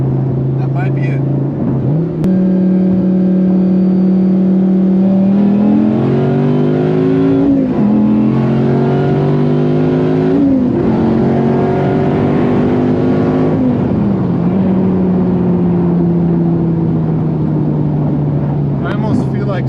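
A Dodge Viper ACR engine roars steadily through a nitrous-boosted acceleration run, its pitch climbing and stepping through gear changes before settling, loud and continuous for most of the clip.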